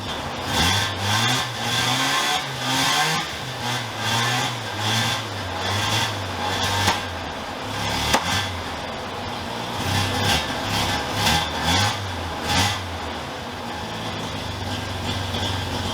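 An old car engine runs after being revived, rumbling loudly up close with repeated rises and falls in revs over a steady idle.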